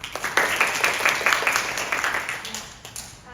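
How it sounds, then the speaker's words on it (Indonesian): An audience breaks into applause after a student's lecture presentation in a university classroom, a steady burst of many hands clapping that lasts several seconds before fading, with a bit of voice mixed in. "Silakan kita berikan aplaus"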